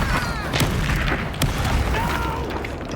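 A Confringo blasting spell goes off in Hogwarts Legacy as a loud, low rumbling boom that holds for the whole moment, with bright magical crackles and whooshes layered over it.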